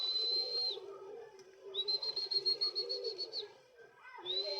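Pigeons arriving at a loft coo softly and faintly, with a sustained whistle-like tone recurring in the background and occasional fluttering, all fairly distant and quiet.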